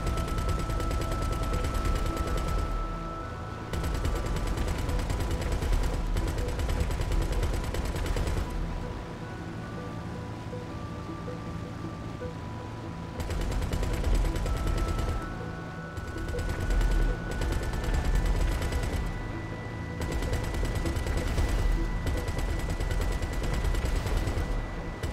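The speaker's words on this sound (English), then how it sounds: "here are the small cannons in game" Continuous heavy aircraft cannon fire from a Bombushka gunship in GTA 5 Online rumbles in sustained bursts with brief pauses, a dense, booming barrage of rapid shots mixed with droning engine tones.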